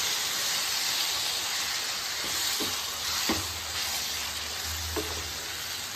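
A spoon stirs tempering through raw grated mango chutney in a hot pan, soft sizzle and steady hiss under a few sharp scrapes and taps against the pan.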